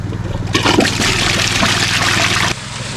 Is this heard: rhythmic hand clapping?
no